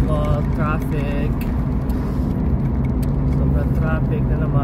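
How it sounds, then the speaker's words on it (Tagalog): Evening road traffic with cars passing, a continuous loud rumble of engines and tyres heard from inside a vehicle, with a person talking over it. "As usual, traffic."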